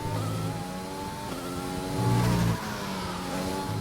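Race car engine revving steadily through a lap of the Belgian Grand Prix circuit driven in reverse in a racing video game, with a droning, harmonic note that climbs and swells louder briefly before settling.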